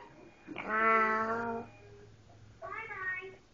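A voice imitates a cat, giving two meows: a longer, louder drawn-out one first, then a shorter, higher one after a pause, both close in a quiet room.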